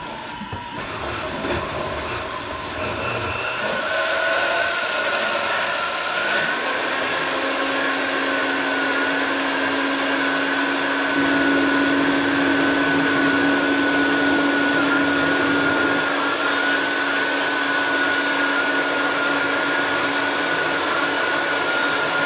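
An electric mixer whips banana pudding made with yellow squash, a steady loud motor whine that shifts pitch once and then runs evenly with no talk.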